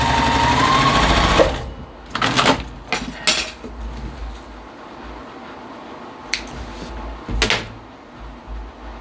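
A home sewing machine stitches the rows of a nine-patch quilt block together in several quick bursts, near and alone, with short pauses and a few clicks and knocks between runs.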